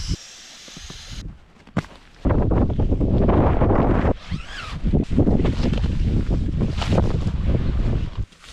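Strong wind buffets a campsite in the New Zealand mountains, a loud, continuous roaring rush with gusty swells that batter the microphone almost throughout, starting quieter and surging after a couple of seconds.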